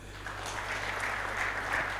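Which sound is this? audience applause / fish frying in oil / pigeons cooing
audience applause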